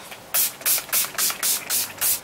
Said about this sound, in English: This is the Urban Decay De-Slick Makeup Setting Spray.